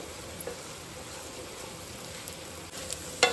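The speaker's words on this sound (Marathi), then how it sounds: "हलक्या हातीन आमकां हे आतां 2 मिनटां भाजून घेवपाक जाय" Rice dry-roasting in a pan as it is stirred gently, a faint, even dry hiss with occasional soft scrapes and a small clink near the end.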